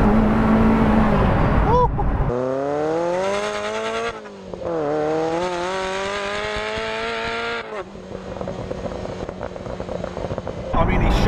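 A Ferrari F40 engine revs hard under full acceleration, its pitch climbing through successive gears with a loud, rising roar; a voice briefly exclaims near the start.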